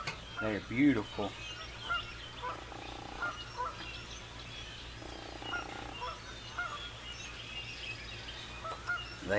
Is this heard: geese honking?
yes